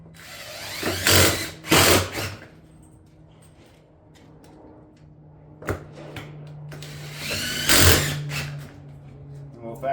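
Power driver running 2.5-inch screws through a shake-style ridge vent on a pitched roof, several short loud whirring bursts with pauses between them.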